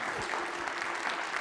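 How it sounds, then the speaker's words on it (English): Audience applause welcoming a speaker at a Houston Methodist event, a steady, even wash of many hands clapping with some voices mixed in. "let's give him a round of applause"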